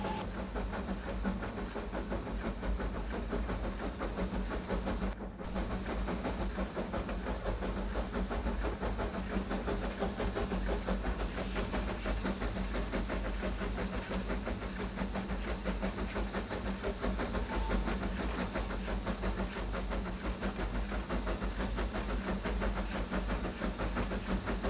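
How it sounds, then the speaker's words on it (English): Small narrow-gauge steam locomotive on the Vale of Rheidol Railway panting through woods, a continuous loud hiss and chuffing rumble with rolling rail noise, steady throughout with no voices. "The gallant little engine, still game, panting its way through the woods"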